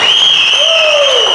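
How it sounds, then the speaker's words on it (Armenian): Wedding guests in an Armenian banquet hall in Yerevan applaud, a dense wash of clapping mixed with voices and a steady sustained tone, loud and continuous throughout. "այնքան լավ ծափ տվեցիք"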